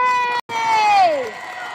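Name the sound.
crowd booing at a rally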